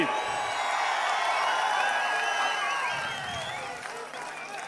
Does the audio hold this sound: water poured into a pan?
no